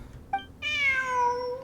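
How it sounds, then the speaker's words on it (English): A cat in the Genshin Impact video game gives a short chirp, then one long, clear, drawn-out meow that slides downward, close and alone. "Look, a cat."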